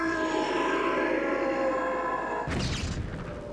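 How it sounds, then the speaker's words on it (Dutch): An explosion goes off in The Legend of Zelda: Skyward Sword, a sudden loud burst cutting through a sustained droning game tone, with the blast decaying over its final second. "Of explosie."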